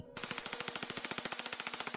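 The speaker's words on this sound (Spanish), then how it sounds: "Pégale unos cuantos tiros para ahuyentarlo" Rapid automatic gunfire in the Darkside Detective video game, fired to scare off a zombie, a steady burst of about twenty evenly spaced loud shots lasting nearly two seconds.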